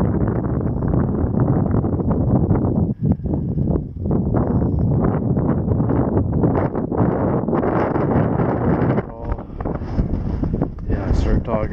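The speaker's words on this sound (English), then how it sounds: "I start talking when the wind picks up." Wind gusts at a cliff edge in Blue Mounds State Park, Minnesota, roar and buffet the microphone with loud, rumbling, continuous turbulence that surges and briefly dips.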